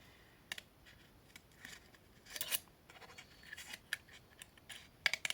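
Scissors snip paper in short, crisp cuts that come at an uneven pace, quiet and close, while a box is being made for Easter.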